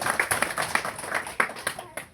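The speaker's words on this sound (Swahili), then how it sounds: "Asante, makofi kwake." Scattered claps ring out from a congregation at a Mennonite church service welcoming a guest, a handful of distinct uneven hand claps at moderate distance rather than full applause.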